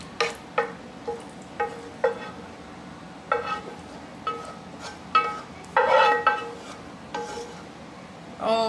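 A spoon stirs homemade apple pie filling into baked beans in a pot, making a steady run of separate scraping and clinking strokes, close up and alone.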